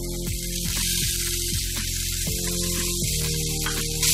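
Finely chopped small onions (shallots) fry in hot oil for an egg curry, giving a loud, steady hissing sizzle that continues without a break over a low background hum.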